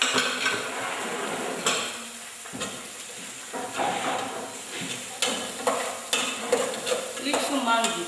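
A spoon stirs diced onions, spring onion and shredded carrots in a pot, producing scraping clinks and soft sizzling close by, with irregular knocks against the pot.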